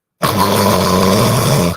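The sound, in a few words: vocal imitation of loud snoring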